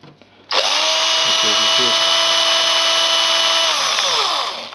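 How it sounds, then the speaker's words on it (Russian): A cordless drill powered by a homemade power supply spins with no load, a loud steady whine that starts abruptly and holds at constant pitch for several seconds before winding down, close to the microphone. "При работе шуруповерта без нагрузки напряжение падает до 20."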